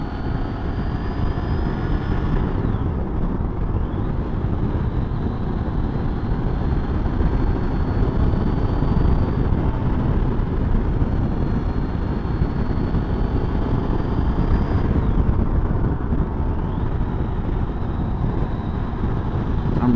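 A Triumph Tiger motorcycle being ridden, its engine droning steadily and loudly with two audible gear changes as revs dip and climb, under constant wind rush.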